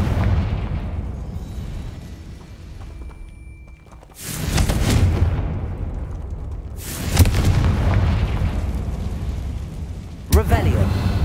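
Confringo blasting spell cast in Hogwarts Legacy, two heavy booming explosions a few seconds apart with rumbling tails, then a sharp third crack, all over a low game ambience.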